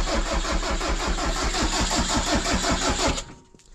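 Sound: engine starting on oil in cold weather

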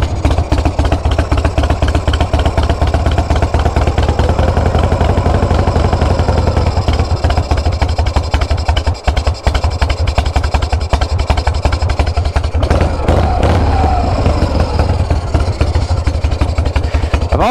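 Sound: vintage Harley Shovelhead motorcycle engine idling

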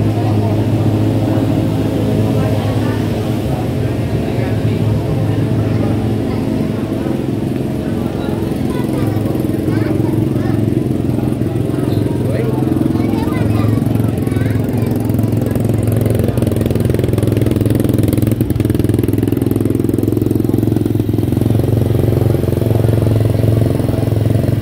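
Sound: motorcycle engine

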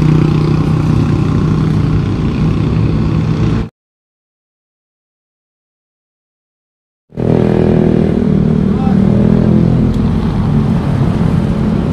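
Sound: motorcycle engine revving during test ride

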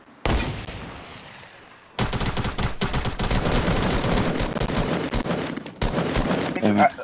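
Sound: gunshots in Fortnite video game

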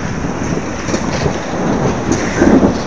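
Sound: thunderstorm with thunder and rain outside

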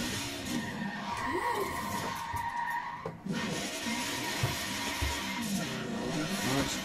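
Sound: car skidding during a handbrake turn

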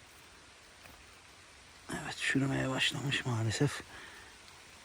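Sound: rain starting to fall outdoors

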